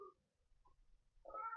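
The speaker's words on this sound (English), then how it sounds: "If you can hear the cat in the background" A house cat gives a couple of short, faint meows in a quiet indoor room, heard on their own with no talking over them.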